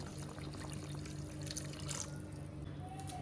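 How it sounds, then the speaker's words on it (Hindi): Water pouring steadily into a pot of chickpea chole, a soft continuous splashing trickle, fairly quiet against faint background hum. "इसमें हम डालेंगे पानी।"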